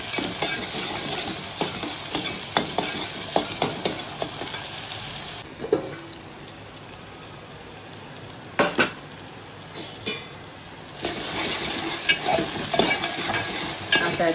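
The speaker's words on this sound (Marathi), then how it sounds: "आणि व्यवस्थित शिजवून घेऊया टोमॅटो" Tomatoes cook in a pan while being stirred, a steady close sizzle broken by repeated scraping and clinking strokes of the spoon against the metal.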